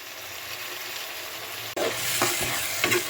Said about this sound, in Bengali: লো হিটে মশলাটাকে আমি কষিয়ে নেব